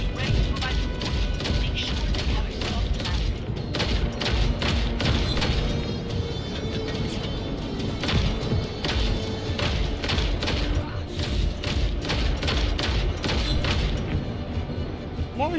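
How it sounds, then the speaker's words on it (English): Enemy gunfire in Just Cause 3 rattles in dense, repeated bursts amid explosions and mechanical clatter, loud and continuous, while someone talks over the fighting. "what the hell is shooting me from behind?"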